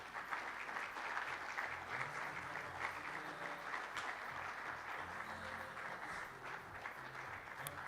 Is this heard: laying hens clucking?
no